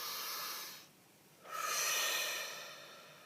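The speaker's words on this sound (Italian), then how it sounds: "facciamo un bel respiro profondo." A slow, deep breath drawn in and released, close and soft, with a short pause between inhale and exhale and no talking.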